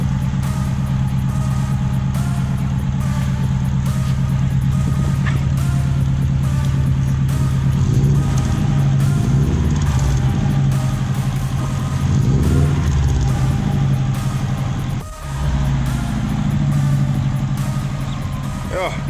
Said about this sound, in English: It's got a nice deep rumble.